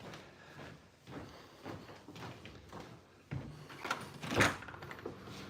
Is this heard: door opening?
yes